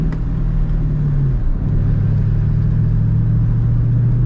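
A Ford Mustang engine droning steadily while driven gently under 4,000 RPM, heard from inside the car as a loud low hum with a slight pitch dip partway through.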